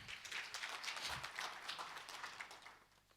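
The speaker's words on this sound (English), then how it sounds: "Another round of applause, please." Faint, scattered applause from a summit audience in a hall, a soft patter of many hands that stays distant and gradually thins out over a few seconds.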